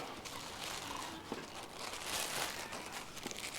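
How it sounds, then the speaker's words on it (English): Continuous crinkling and rustling of plastic close by, with scattered crisp crackles and no speech. "You take your plastic bag."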